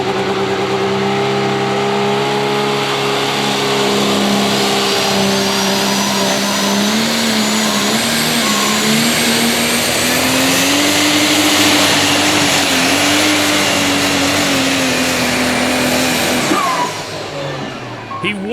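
A super stock diesel truck at a truck and tractor pull roars loudly and without a break for about seventeen seconds, its engine pitch slowly climbing under strain before it cuts out suddenly near the end.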